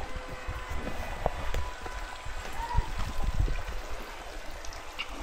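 Running water trickles and pours steadily at a construction site near a chapel in Ilocos Sur, with scattered splashes, light clatters and rustling footsteps mixed in, close and moderately loud.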